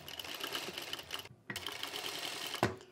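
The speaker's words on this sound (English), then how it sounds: "I am demonstrating on my Juki DDL900B industrial sewing machine." Juki DDL900B industrial sewing machine with a gathering foot stitching fabric, a steady close whirring run that drops out briefly near the middle, then resumes and ends with a sharp click.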